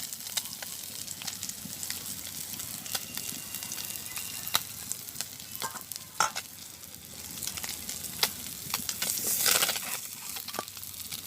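Fish frying in hot oil in a village kitchen makes a constant soft sizzle, broken by scattered sharp pops and the occasional scrape of stirring, at moderate volume with no talk.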